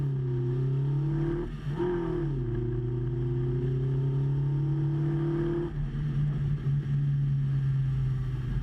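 A racing car engine drones steadily as it heads into the first bend toward a chicane. The pitch dips briefly around two seconds, then holds a sustained, mid-distance roar with no voices.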